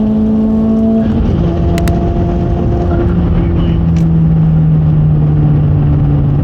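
A big-turbo VW Scirocco 1.4 TSI makes a hard launch, its engine droning loud and close. The pitch shifts about a second in, then holds a strong, steady rising note through the acceleration.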